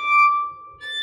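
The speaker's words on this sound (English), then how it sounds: "another way we make harmonics is just gently touching with one finger" A bowed string instrument from a chamber group plays a harmonic, the string lightly touched with one finger. It gives a pure, glassy high tone that holds steadily, with a second note entering near the end, and no voices.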